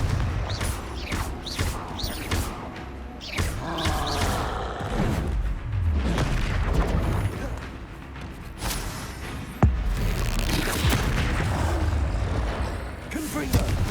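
Confringo explosive spells blast repeatedly in Hogwarts Legacy during a fight with a troll, loud bursts over a continuous din of combat effects while a voice shouts over them.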